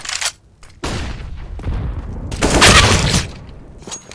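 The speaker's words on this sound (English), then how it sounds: "I'm throwing a flashbang." A flashbang grenade detonating in a first-person shooter game: a sharp blast and a loud, ringing burst peak near the middle, among other game bangs and sustained noise.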